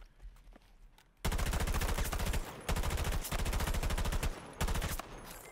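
A drum-magazine rifle in Battlefield 2042 fires long, loud, rapid automatic bursts, several sustained strings of shots separated by brief pauses after a quieter start.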